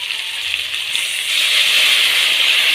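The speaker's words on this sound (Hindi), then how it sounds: "आधा कप पानी का डालेंगे इसमें।" Half a cup of water pours steadily into a pot of chicken and potato pulao, a close, hissing splash that grows slightly louder and fuller as it continues.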